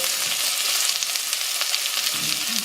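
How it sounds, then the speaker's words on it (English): Vegetables sweat in a pot for a Hungarian goulash, giving off a steady, close sizzle and crackle that stays even throughout with no talking. "I'm going to let that sweat down 3 to 4 minutes"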